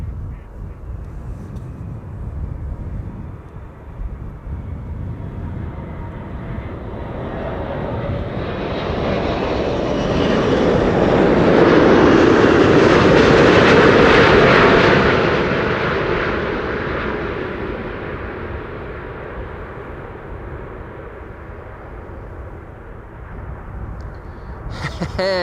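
A large four-engine jet airliner passes by on arrival, its roar swelling steadily from a distant rumble to a loud peak mid-way, then slowly fading away.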